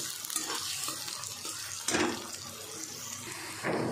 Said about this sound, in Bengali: পেঁয়াজটা ফ্রাই হচ্ছে, পেঁয়াজটা একটু আমি লাল করে ফ্রাই করে নেব।